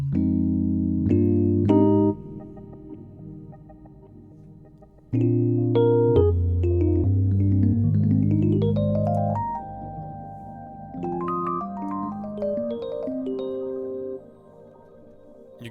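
Numa Compact 2x synthesizer notes run through a Zoya effects unit, with rising pitch sweeps and shimmering repeats, alone and moderately loud.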